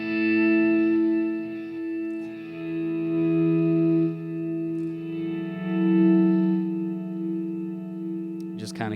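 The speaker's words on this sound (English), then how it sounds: "So this is a low mix, high feedback type setting. It just keeps going and going, and those are really great for swells." Electric guitar through a delay pedal set to low mix and high feedback, with sustained notes and swells whose repeats keep trailing on behind them, and a sharp click near the end.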